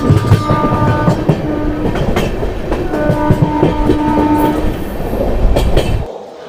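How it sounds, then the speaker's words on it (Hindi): The 14090 Kotdwar Express, an LHB rake, rolls into Anand Vihar Terminal with a loud, sustained rumble of wheels and coaches, a long horn tone drawn out through the middle, and rhythmic clicking over rail joints before fading. "हमारी ट्रेन जो है वो आनंद विहार टर्मिनल पर आ चुकी है"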